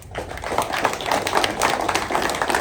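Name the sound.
applause for the bishop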